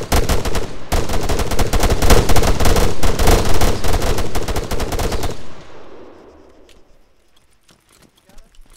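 Machine gun in the military shooter ArmA 3 firing a long, loud, rapid sustained burst for about five seconds, then cutting off into a fading echo and a few faint distant shots.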